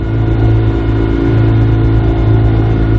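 A dinghy outboard motor drones steadily on a ride into town, a loud, close, constant engine hum with a slight pulsing roar and no break from start to finish.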